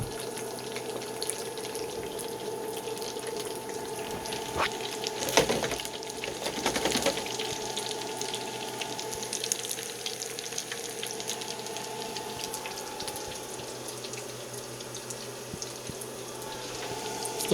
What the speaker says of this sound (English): you're probably only going to hear the fryer, but this is solar power cooking chips though